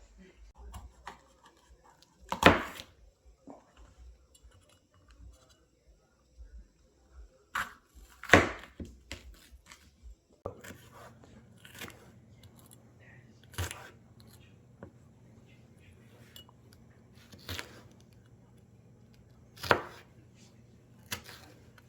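Sharp knife strikes on a cutting board, irregular and spaced apart, some louder than others, over a low hum from about midway.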